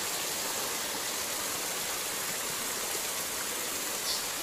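A small stream of water flows out from inside a rock, giving a steady, even rushing hiss that stays close and constant throughout.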